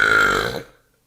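A single loud, close burp lasts just over half a second and then cuts to silence.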